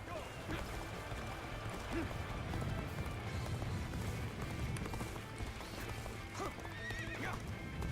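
Horses gallop and neigh in the battlefield of the video game Dynasty Warriors: Origins, with steady rapid hoofbeats, whinnies and clashing battle noise throughout.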